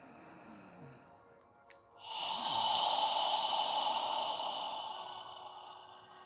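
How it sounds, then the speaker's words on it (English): A long, steady exhale through the mouth during yoga breathing, a soft breathy hush that swells and slowly fades, preceded by a quieter breath and a brief click. "As you exhale, imagine you're fogging a mirror with your breath."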